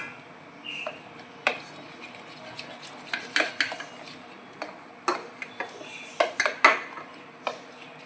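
Gram flour batter for dhokla is stirred in a bowl, giving a close series of sharp, irregular clicks and taps of a spoon against the bowl over a quiet background.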